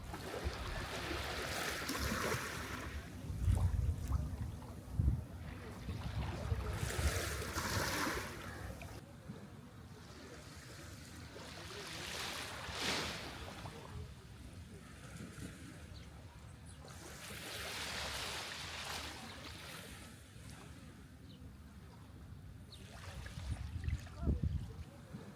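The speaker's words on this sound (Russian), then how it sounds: "Здесь хотелось бы дать вам насладиться шумом моря" Sea waves washing onto the beach at a Sharm el-Sheikh resort, a soft, distant surf that swells and recedes in slow repeating surges, with faint voices and other background sounds mixed in.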